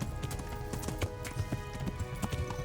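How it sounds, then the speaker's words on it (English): Horse hooves gallop in the video game Kingdom Come Deliverance, a quick, steady run of clip-clop beats with game music and ambience underneath. "Yo, you're a very slow horse."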